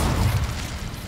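An Incendio fire spell is cast in the Hogwarts Legacy video game, giving a short, loud, dense whoosh-like burst of flame with a heavy low rumble.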